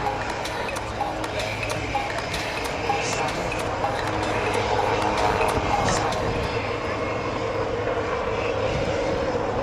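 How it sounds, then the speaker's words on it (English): A Dassault Rafale fighter jet roars through aerobatic maneuvers at the Aero India 2019 airshow, a steady distant engine rumble and whine that swells slightly toward the end, with a public-address announcer talking over it. "you can see the Rafale performing maneuvers"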